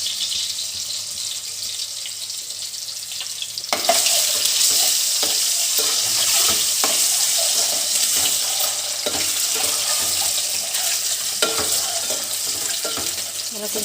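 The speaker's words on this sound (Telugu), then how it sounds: "ఆ పసుపు కొంచెం వేడెక్కిన తర్వాత ఇందులో గుడ్లు వేసుకుంటున్నాను." Eggs frying in hot oil with turmeric for egg curry, a steady loud sizzle that jumps up sharply as they hit the pan, with scattered stirring clinks, no talk.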